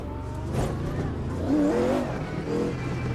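Race car engine in the racing video game Automobilista 2, a sustained droning whir with a rising, revving pitch sweep midway, steady and fairly loud with no talk over it.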